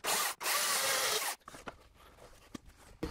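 A power drill runs loud and steady for about a second and a half, driving screws into wood while an old wooden corn crib in the steppe is restored. A short pause and then a few quieter knocks and clicks follow.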